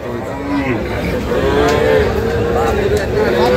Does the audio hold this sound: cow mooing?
yes